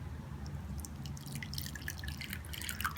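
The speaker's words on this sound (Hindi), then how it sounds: "मैं इसका पानी निकाल दूँगी दूसरे बाउल में" Potato juice from one grated, strained medium potato poured into another bowl, heard as soft close dripping and trickling drops over a quiet background, with no talking.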